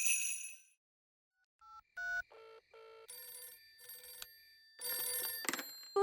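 Cartoon telephone ringing in a children's animated show, a run of bright electronic ring bursts and tones in quick separated pulses, loud and near, with no voices.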